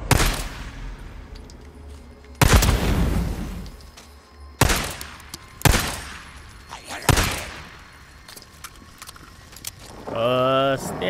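Days Gone gunshots: four loud, separate blasts spaced a second or two apart, each with a ringing tail, followed by a short rattling burst near the end.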